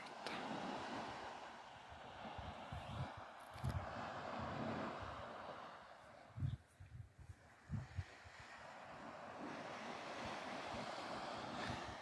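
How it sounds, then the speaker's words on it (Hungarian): Sea waves rumble and wash onto a beach in the Scottish Highlands, a steady broad roar with wind buffeting the microphone and a few louder surges breaking through. "Ahogy a víz morajlik, nagyon jól hangzik."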